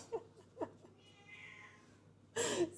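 House cat meowing at home: a few short soft mews, then a drawn-out meow and a final louder cry, close by, with a little faint speech.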